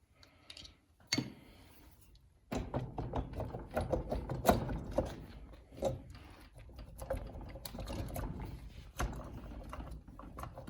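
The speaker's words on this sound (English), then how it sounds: "we can go ahead and pull the cylinder off" Cylinder being worked off a 1998 Suzuki RM250 two-stroke engine during a rebuild: close metallic clicks, knocks and scraping handling noises, with a sharp knock early and then a steady run of small clattering contacts, no talking.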